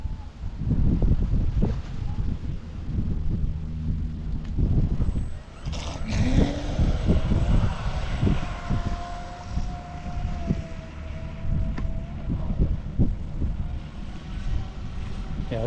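A ProBoat RC speedboat fitted with an Oxygen Marine propeller whines loudly across the water, its motor pitch rising and dipping as it accelerates and cruises, with wind buffeting the microphone throughout.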